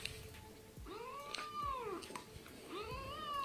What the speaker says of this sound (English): This cat hadn't been fed in 30 minutes.